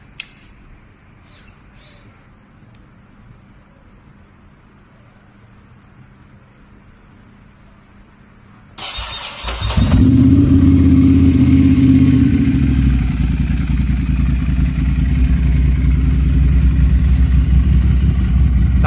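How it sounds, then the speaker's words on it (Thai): Quiet ambience with faint birds, then a 2014 Ducati Monster 796 ABS motorcycle with SC exhaust cranks and fires up, settling into a loud, steady, throaty idle close by. "เดี๋ยวผมจะพามาฟังเสียง ลูกติ 796 จะเป็นยังไงบ้างไปฟังกัน"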